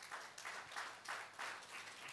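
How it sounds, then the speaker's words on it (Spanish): A church congregation applauds during a sermon, a faint, distant patter of clapping that swells and dips in waves, with a low steady hum underneath. "Denle un fuerte aplauso al Señor."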